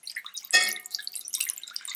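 Water is poured into a container, starting with a sudden splash and followed by bubbling, trickling liquid sounds that fade into light, scattered drips.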